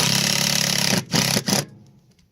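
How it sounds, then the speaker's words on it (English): A power drill drives a screw into wood to fasten a ladder plate, whirring steadily at close range, then giving two short bursts before stopping into near silence. "Install the second screw in the second plate."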